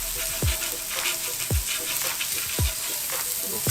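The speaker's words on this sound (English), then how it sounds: "Now these are grilling nicely" Smash burger patties sizzle steadily on a hot griddle, a continuous hiss broken by a few low thuds roughly once a second, with no voices.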